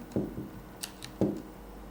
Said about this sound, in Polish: gałka trybów pracy